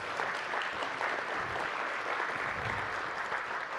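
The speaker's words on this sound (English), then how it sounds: "let's give a round of applause to the Pie Center for being our host" A round of applause for the host venue at a chamber of commerce annual meeting, a dense, steady wash of many hands clapping from a large audience, sustained at an even level for the whole stretch.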